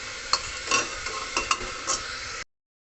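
Potatoes frying in a spice tempering for a potato curry, a steady sizzle in the pan with several scraping stirs of a spatula, close and moderately loud, then an abrupt cut to silence.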